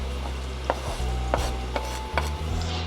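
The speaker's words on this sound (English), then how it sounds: "we put all of this lovely onion and garlic into the frying pan" Onion and garlic frying in olive oil in a frying pan make a soft, close sizzle, broken by several sharp scrapes and knocks as a utensil stirs the pan, with no talking.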